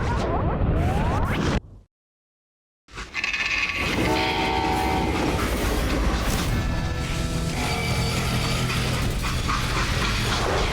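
A freight train in the video game Call of Juarez: Gunslinger rumbles and clatters steadily at close range, with a brief drop to silence near the start and horn-like tones sustained through the rumble.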